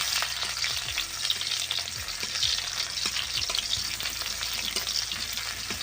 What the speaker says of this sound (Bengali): শাকগুলো ভেজে নেওয়ার জন্য তেলের ওপরে দিয়ে দিলাম পেঁয়াজ আর শুকনো লঙ্কা